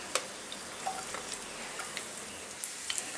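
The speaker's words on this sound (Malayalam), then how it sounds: "ഒലിവ് ഓയിൽ ചൂടായി കഴിഞ്ഞാൽ അതിലേക്ക് വെളുത്തുള്ളി വട്ടത്തിലരിഞ്ഞതാണ്." Sliced garlic frying in hot olive oil for fried rice, giving a faint, steady sizzle with sparse small crackles and pops scattered across the pan, no voices.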